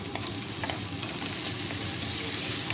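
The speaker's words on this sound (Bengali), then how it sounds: "এখন পেঁয়াজ টমেটোটা বেশ ভালো করে ভাজা হয়ে গেছে এর মধ্যে দিয়ে দিচ্ছি আরও দুটো পেঁয়াজ" Onion paste frying with onion and tomato in a pan, a dense, even sizzle throughout with faint stirring, close and steady with no voices.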